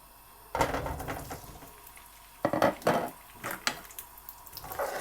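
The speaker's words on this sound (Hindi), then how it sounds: "ऑयल जब गर्म हो जाए तो इसमें आलू डाल के इसको थोड़ा फ्राई कर लेंगे" Potatoes going into hot oil in a pan for Kashmiri dum aloo bring several loud bursts of crackling sizzle and clatter, separated by quieter gaps; nobody speaks.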